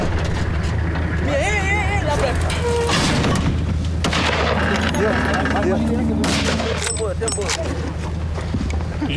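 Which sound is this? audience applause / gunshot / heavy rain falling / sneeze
gunshot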